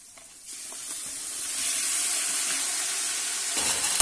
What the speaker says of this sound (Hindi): अब इसमें हम मटन डाल देते हैं, मटन को एक इसके साथ भून लेंगे।